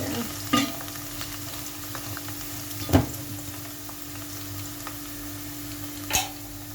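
Oyster mushrooms sizzle steadily in a hot pan, with a few sharp scrapes and clacks as they are stirred.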